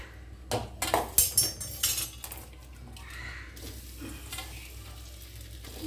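Vegetables frying in a hot non-stick pan, with a burst of sharp spatula scrapes and clanks against the pan, then a softer continuous sizzle underneath.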